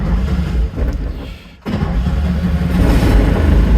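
A classic Fiat 500 engine cranks and catches, then settles into a steady, loud mid-pitched running drone with a brief dip just before the start.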